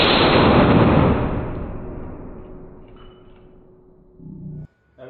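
A loud MSD pistol gunshot at a penetration test, a heavy blast that opens the clip and rolls off in a long fading echo, followed by brief handling noise.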